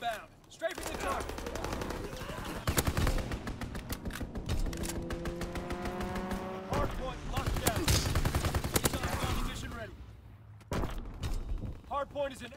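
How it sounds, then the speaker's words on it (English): Fighter plane strafing run in Call of Duty WW2: rapid machine-gun bursts crackle loudly and repeatedly, with an aircraft engine tone rising and falling through the middle as game announcer voices talk over the firing. "Fighter pilot inbound. Strafing the target."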